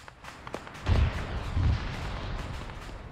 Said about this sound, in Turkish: ICBM'leri patlattılar.